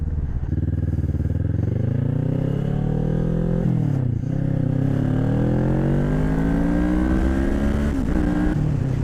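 A Kawasaki 650cc motorcycle engine runs loud and close while riding, its pitch climbing steadily through the gears with brief dips at each shift, alone without talk.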